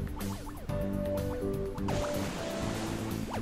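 Splashing, dripping water and watery effects from the Kirby and the Rainbow Curse video game, with bright chiming game tones and music playing steadily over it, no talk.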